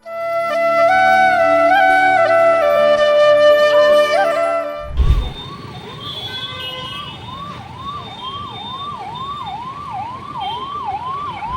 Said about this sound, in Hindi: एक एम्बुलेंस ट्रैफिक में फंसी हुई थी।